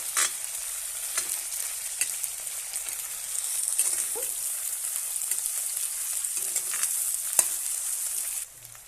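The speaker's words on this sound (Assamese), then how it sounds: "ভাজিম এতিয়া" Onion and tomato fry in a pan for an Assamese goat curry, a steady close sizzle running throughout with scraping stir strokes from a spatula at irregular intervals.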